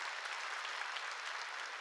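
Brief burst of steady audience applause during a church service, a dense wash of many hands clapping at once, fairly even and without speech.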